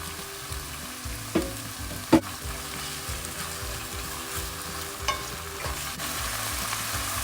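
Pork frying with pounded chili paste in a pan for a Thai stir-fry of bitter beans with shrimp and shrimp paste, with a steady near sizzle, occasional utensil knocks and stirring scrapes, and no talking.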